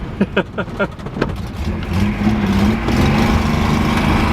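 Datsun 240C car on its first drive, the engine catching in a few short bursts before settling into a loud, rising, steady drone as it accelerates, no talk.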